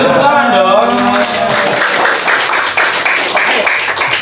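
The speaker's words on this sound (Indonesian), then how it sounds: "Beri tepuk tangan dong." Students in an Indonesian classroom break into applause, a dense wash of clapping that follows a moment of voices and carries on steadily.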